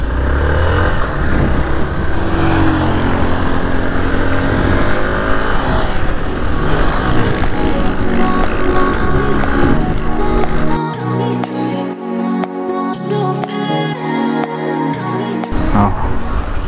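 A Hero Xpulse 200 4V motorcycle ridden at speed on an open road, its engine drone mixed with strong wind rush, loud and continuous, with the engine note shifting and easing off toward the end.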